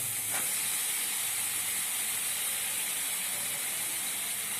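Chopped red pumpkin goes into a hot pan for a village-style vegetable dish, releasing a loud, steady hiss of steam and sizzle that holds evenly throughout.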